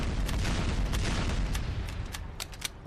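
Team Fortress 2 Demoman pipe bombs going off during a Badlands middle capture point fight, a dense wash of booming blasts and crackling gunfire with sharper pops near the end, loud and continuous.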